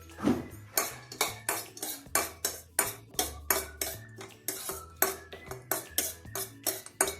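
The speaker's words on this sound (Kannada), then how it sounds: "ಮೊದಲಿಗೆ ಗೋಡಂಬಿ ಹುರ್ಕೊಂಡು ಅದರಲ್ಲೇ ನಾನು ಹೆಸರು ಬೇಳೆನ ಹುರಿತಾ ಇದ್ದೀನಿ" Cashews and moong dal roast in ghee in a kadai, a close, rhythmic series of metallic scrapes and clanks from a ladle against the pan, about two strokes per second, with a faint sizzle underneath.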